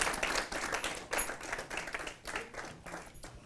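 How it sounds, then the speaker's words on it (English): An audience at a talk on Israelite legacy claps in a brisk, fairly quiet round of applause, individual hand claps audible in a crisp patter that thins toward the end. "please give a round of applause again for Nathaniel."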